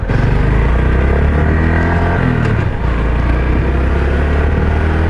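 A low-displacement Honda Super Cub motorcycle engine drones steadily and loudly while riding on the street, with a constant hum and a brief dip as the rider shifts.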